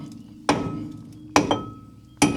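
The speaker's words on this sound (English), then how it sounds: "When in doubt, bigger hammer." Three heavy hammer blows strike metal on a long-neglected Firebird about a second apart, each a sharp clang that rings briefly and fades.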